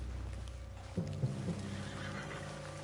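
A spooked horse in Red Dead Redemption 2 gives a short whinny over a low, steady hum of game ambience, with a few soft thuds like hooves shifting around it.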